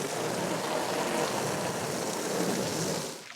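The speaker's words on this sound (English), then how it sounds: "Let's grab a hose and fill the pool up." Hose water gushes steadily into a duck pool, a loud, continuous broadband splashing rush that holds for about three seconds before tapering off at the end.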